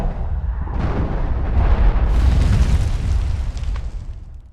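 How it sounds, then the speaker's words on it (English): A meteor tears through the sky in Conan Exiles, a loud, rolling explosive boom that swells for several seconds with deep rumbling and crackling before fading away. "watch out for a loud bang as the meteors break through the atmosphere, then follow the fireball trail towards the impact site"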